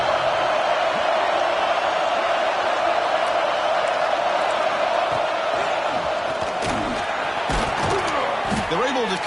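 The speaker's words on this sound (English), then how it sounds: "This crowd is trying to inspire this defense to make a big red zone stop" A college football stadium crowd roars for its defense in the red zone, a dense, sustained wall of cheering with a few sharp thumps near the end and a commentator talking over it.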